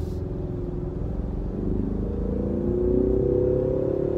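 A 2023 Ford Mustang EcoBoost Premium convertible accelerates in sport mode, its low engine drone heard from inside the cabin and climbing steadily in pitch and loudness over a few seconds.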